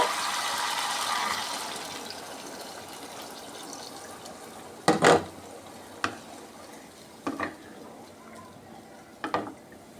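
Broth poured into an egg and potato curry, a steady watery pour for the first few seconds, then quieter simmering broken by several separate clinks and splashes.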